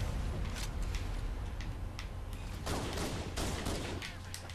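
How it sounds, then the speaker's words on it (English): Halo Combat Evolved multiplayer gunfire as a steady wash of rapid shots, with sharper bursts standing out near the middle against constant game noise and a low hum. "I'm just shooting wildly, but I know you fuckers are dying."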